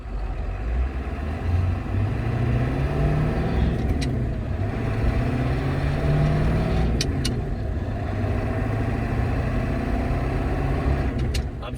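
Car driving with a worn, sloppy ZF5 five-speed gear shifter, a steady engine and road rumble throughout, with faint sharp clicks popping up a few times over it, no voices.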